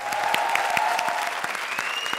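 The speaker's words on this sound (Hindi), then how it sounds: "तालियां भारती के लिए।" Audience applause rings out at a televised comedy show, loud continuous clapping with sharp individual hand claps standing out over the crowd's wash, along with a sustained tone in the background.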